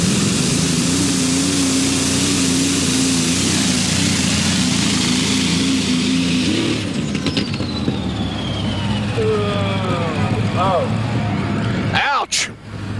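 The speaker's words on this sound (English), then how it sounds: "Now this is the new and improved machine as he comes to the line with that dual Allison." A dual Allison engine modified pulling tractor at a 1996 USHRA tractor pull in Bowling Green roars loudly and steadily for about seven seconds, then cuts off sharply. Afterward come scattered crowd noise and an announcer talking, plus a brief thud near the end.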